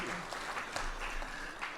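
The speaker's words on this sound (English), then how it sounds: "Yeah, round of applause." Outdoor audience at a brass band festival claps for the band and its director, a short burst of moderate applause with a few sharper claps and a voice briefly heard.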